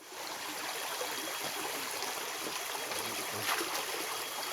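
A forest stream flows steadily with a broad, even wash of running water and faint trickling detail, close and continuous throughout with no talking.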